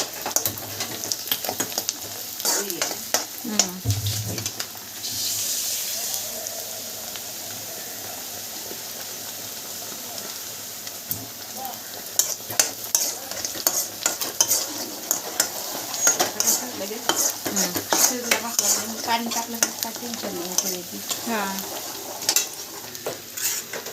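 Onion and masala frying in a pan while being stirred, steady sizzle under repeated scraping and clinking of a metal spoon against the pan, close up, with brief pauses between bursts of stirring and no talking.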